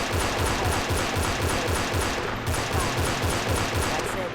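Rapid gunfire from a G3 rifle in the video game Trespasser, loud and close, with repeated shots in a steady, fast rhythm that runs almost continuously through the whole stretch.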